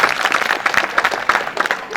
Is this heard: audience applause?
yes